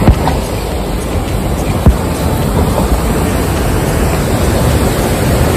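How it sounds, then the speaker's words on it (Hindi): Fast-flowing Yamuna floodwater surges under the Kalindi Kunj bridge, a loud, steady broadband roar and rush heard close up and alone, with no talking. "पानी का फ्लो वाकई में बहुत तेज है।"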